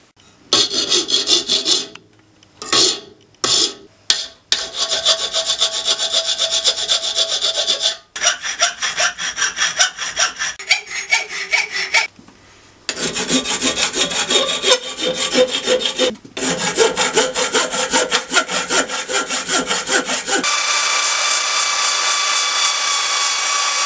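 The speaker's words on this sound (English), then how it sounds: "Once this is filed down and smoothed off, and then we can shape this, maybe drill it, it should look a lot better." A hand file rasps back and forth over a welded metal part for a cafe racer motorcycle build, loud and close in steady rhythmic strokes with brief pauses between bursts, ending in a smoother continuous scraping.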